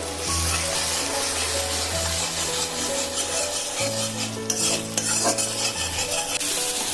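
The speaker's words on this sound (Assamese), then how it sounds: "এনেকৈ লৰাই পেলাই ভাজি ল'ব লাগিব গোটেইখিনি" A utensil scrapes and stirs steadily through spiny gourd sizzling in a pan with a little water, the frying hiss continuous and close, with occasional sharper clinks.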